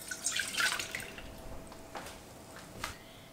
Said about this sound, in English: now into this pot, I am going to be putting in 250 ml of milk